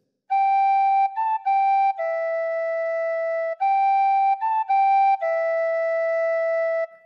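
A tin whistle plays the opening phrase of Silent Night in clear, steady sustained tones, alone with no other sound, the pattern of notes repeating twice.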